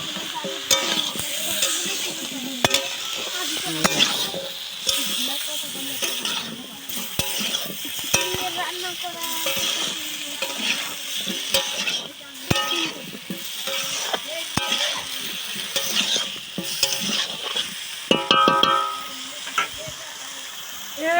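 Potatoes being stirred into a frying meat curry, a spoon scraping and knocking around the pot over a continuous sizzle, with someone talking at times.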